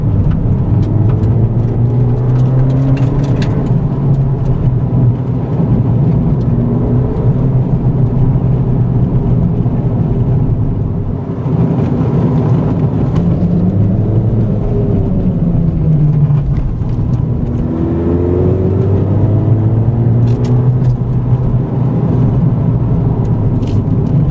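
A 2015 Buick Verano turbo drives over a rough course, its engine giving a loud, steady drone that climbs and falls in pitch with road and wind noise throughout, and no talking.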